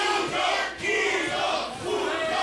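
A lucha wrestling crowd at a tag match roars and chants in loud, rhythmic swells that rise and dip, a dense wall of massed voices filling the whole arena.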